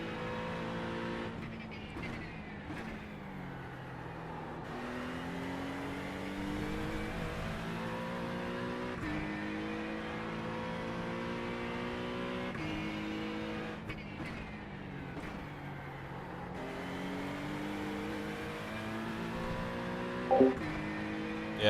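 A race car engine in the iRacing sim at Bathurst revs up and down through repeated gear changes, with rising and falling whines and brief lifts under a steady drone; no talk.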